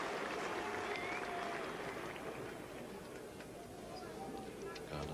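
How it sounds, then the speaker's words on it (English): A cricket crowd applauds a batsman becoming top scorer during the 1980 England v West Indies Test match. The clapping sounds distant and diffuse, a steady broad patter spread across the ground that fades slightly midway. "the applause there, of course, for Bairstow, who's now top scorer in this England innings"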